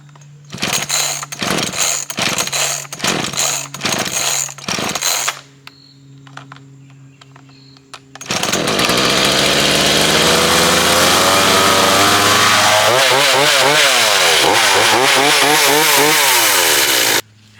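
A brand-new chainsaw with a self-sharpening stone clipped onto the end of the bar starts with several short sputtering pulls, idles briefly, then revs loud and steady up close before dropping off.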